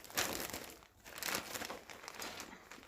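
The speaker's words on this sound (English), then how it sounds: "Sorry if you can hear the crinkling." Plastic packaging from a cross-stitch kit crinkles close up in a few quick bursts, soft and rustling with brief pauses between handlings.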